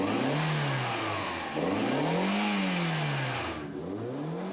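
A 1984 Seat Ibiza with a 1.2-liter 71-horsepower engine revs up and down several times in rising and falling sweeps, loud and close, with no talking.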